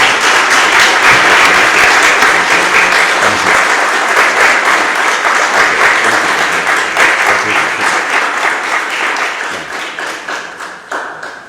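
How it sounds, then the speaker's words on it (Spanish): A lecture audience at a conference in Alcázar de San Juan breaks into loud, sustained applause, a thick wash of many hands that stays strong for several seconds before gradually thinning and fading toward the end. "creo que otro último aplauso se merece"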